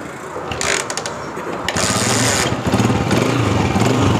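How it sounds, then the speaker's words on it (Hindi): A Honda CG125 motorcycle with a damaged carburetor insulator is kick-started with a little throttle, a few mechanical clicks and rattles giving way to a close single-cylinder engine catching and running with a rough, pulsing idle. "थोड़ा एक्सीलेटर रख के हम इसको स्टार्ट करेंगे।"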